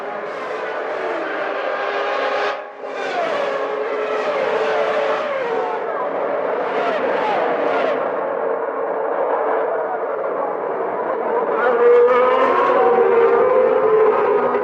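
Formula One race cars, including a Brabham Yamaha, at the 1991 Italian Grand Prix at Monza, screaming high-revving engines sweeping past in a loud continuous wail with rising and falling pitch and gear changes.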